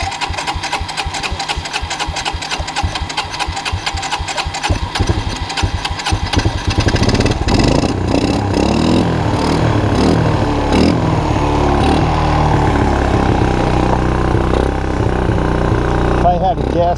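A Suzuki LT160 ATV with a PZ26 carburetor cranks with rapid chugging, then catches and settles into a loud, steady close idle, with a voice talking over it at times.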